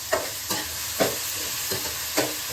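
Onions sizzle and fry in a hot pan for a Tamil mackerel fish curry, with a steady crackle broken by five evenly spaced stirring scrapes; no talk.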